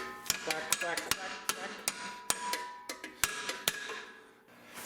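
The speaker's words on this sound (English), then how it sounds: "Hammer this." Sharp metallic hammer strikes ring out on a Ford 8.8 rear axle during a swap in a home garage, about a dozen irregular blows with bright clanging overtones, close and alone.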